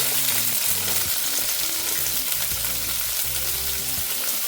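Chopped onion hits hot oil in a pan on a gas stove, setting off a loud, steady close sizzle with stirring clinks, for a Goan kingfish ambot tik curry.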